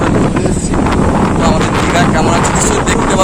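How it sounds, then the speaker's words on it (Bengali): Strong wind at Digha beach after Cyclone Remal, loud continuous buffeting roar against the microphone with a constant seaside rush beneath and some indistinct talk. "সূর্য প্রচুর হাওয়া একদম উড়ে নিয়ে চলে যাচ্ছে"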